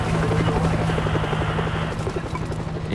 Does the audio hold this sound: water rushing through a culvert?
no